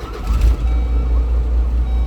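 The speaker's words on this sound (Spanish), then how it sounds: "Ahora ya lo puedo prender el camión" A truck's engine idles with a deep, loud rumble and a slight surge near the start, steady low throb with no voices.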